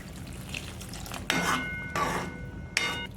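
Water is poured into a hot pan of matar paneer curry in three sudden hissing surges, each sizzling briefly, with faint metallic clinks of cookware.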